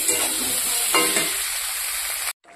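Water poured onto vegetables sizzling in a pan for fish curry brings a loud, dense hiss that holds steady, then cuts off abruptly near the end, leaving a faint quieter bubbling.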